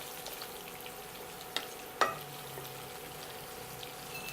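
Sesame seeds frying in hot oil in a pan, a soft continuous sizzle, fairly quiet, with a couple of faint clicks from a utensil.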